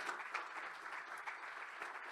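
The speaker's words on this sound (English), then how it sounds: "Give Colin a round of applause in Crescent Capital." An audience's round of applause at a finance event, steady, dense clapping from a room of listeners, heard faint and distant with no one speaking over it.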